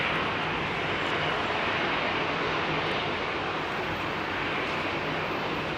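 Jet engines spooling up at Heathrow airport in fog, a continuous loud broadband roar that holds steady throughout, with no voices over it.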